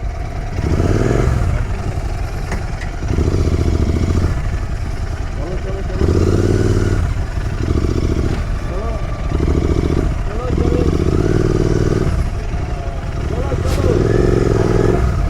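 A motorcycle engine runs loudly and close by on a Sunday ride near the Ganga, pulsing through repeated blips of throttle with a rough, uneven rhythm, while voices talk over it.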